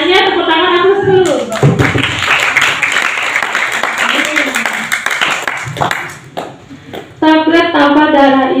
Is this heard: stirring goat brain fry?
no